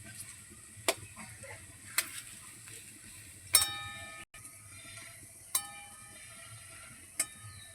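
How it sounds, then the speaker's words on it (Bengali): Malabar spinach leaf fritters fry in oil with a quiet, steady sizzle, while sharp metallic clinks of a utensil ring out every second or so. "এই পাশটাই একইভাবে কিন্তু আস্তে আস্তে জাল দিয়ে ভেজে নেব"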